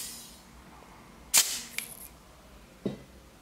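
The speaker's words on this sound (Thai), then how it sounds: "เดี๋ยวมายิงให้ดูกันดีกว่านะครับ" A second-hand gas blowback airsoft pistol fired once, a sharp close snap with a short hiss of gas, followed by a fainter click and a later soft knock against a quiet room background.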